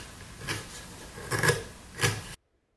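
A hand carving tool cutting into cottonwood bark for a Greenman carving gives three short, close rasping strokes, then cuts off to silence.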